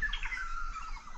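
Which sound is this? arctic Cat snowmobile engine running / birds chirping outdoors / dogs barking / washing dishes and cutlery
birds chirping outdoors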